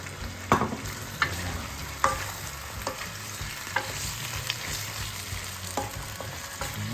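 Tomatoes frying in a pan for corn chicken soup, a steady low sizzle with a few sharp stirring scrapes and clinks from a utensil, close and moderately quiet.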